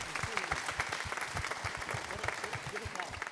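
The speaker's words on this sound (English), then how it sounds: "give them a round of applause" Theatre audience applauding a returning cast at a stage play briefing: dense, steady clapping with some voices and cheers mixed in throughout.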